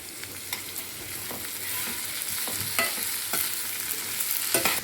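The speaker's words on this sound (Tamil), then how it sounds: "இப்போது இதில் தக்காளி ஆட் பண்ணிக்கலாம்" Tomatoes are stirred into hot oil in a frying pan for a chana masala, giving a steady close sizzle broken by short scraping strokes of the spoon, with no voices.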